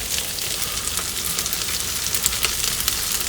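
Breakfast frying hard in a pan on the highest possible heat in an RV kitchen, with a steady, dense sizzle and crackle holding up over the whole stretch, dotted with small pops and no talk.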